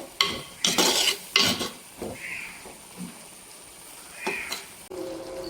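A spoon stirs mushrooms with salt in a cooking pot, making several loud scraping clatters early on and then quieter knocks and a faint sizzle, close by with no talking.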